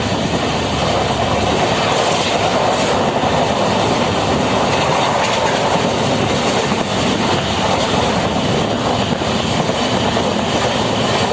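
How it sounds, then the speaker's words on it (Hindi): Kolkata–Jaynagar weekly express train running on rails, a loud, steady roar of wheels and wagons with rhythmic clickety-clack throughout and no voices. "कोलकाता जयनगर की जो ये ट्रेन है वीकली एक्सप्रेस, जो कि कोलकाता से सैटरडे को चलती है और जयनगर से संडे को"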